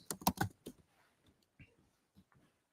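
A computer keyboard gives a quick burst of several close key clicks, then a few sparser, softer taps spaced out in a quiet room.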